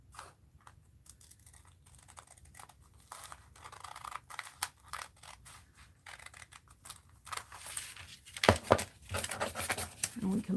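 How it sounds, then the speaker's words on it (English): Scissors snip through fabric for an art journal in quick, close clicks and crisp cuts, with rustling of material between them and soft speech at times. "Now we'll just keep cutting."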